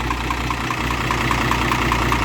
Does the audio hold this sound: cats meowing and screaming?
no